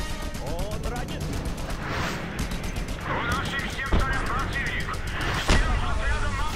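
Repeated heavy cannon-fire blasts crack through continuous noisy audio from a children's naval-battle boat game, with a couple of louder booms standing out near the end as an enemy boat is sunk.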